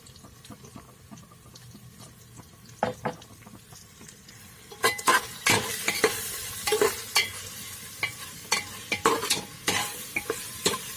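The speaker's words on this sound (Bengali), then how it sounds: "এখন মাংসগুলো ভালো করে ভেজে নেব।" Chicken pieces fry in a pan with turmeric, chili powder, cumin, coriander and meat masala for a kuash aloo chicken dish; near sizzling rises midway and is joined by repeated scraping stirs, with no talk.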